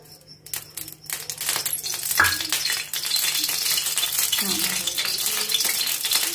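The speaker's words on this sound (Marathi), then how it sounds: "आता यात पाव वाटी तेल घालायचा।" A quarter bowl of oil goes into a hot kadhai while starting stuffed brinjal curry, opening with a few light clinks before a steady, fairly loud crackling sizzle takes over.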